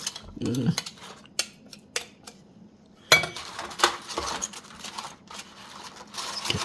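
A spoon scrapes and clinks against a casserole dish of eggplant parmesan in irregular short strokes, with a quiet gap before a sharper burst of scraping and clatter, and no talk.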